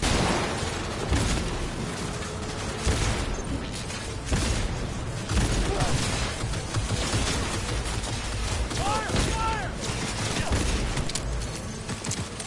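Gunfire rattles through a Cyberpunk 2077 fight as repeated sharp shots and bursts crack at irregular intervals, mixed with mechanical clatter and thuds, loud and close throughout.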